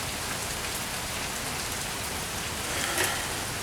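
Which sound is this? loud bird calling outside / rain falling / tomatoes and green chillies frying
rain falling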